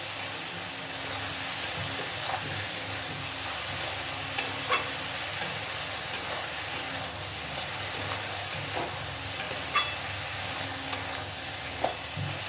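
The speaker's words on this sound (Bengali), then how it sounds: "খুব ভালোভাবে এবার মিশিয়ে নেব সব।" Eggplant and shrimp with a little chili powder being stirred in a pan over the gas flame, a steady low frying sizzle with soft intermittent scrapes and clinks of the spatula, no voices.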